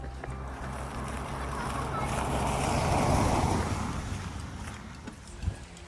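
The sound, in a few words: heavy rain pouring down at a campsite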